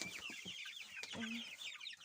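A hen and her chicks clucking in a coop, startled by someone walking in. Close, quick clucks and soft peeping chirps come in an uneven patter at a low level.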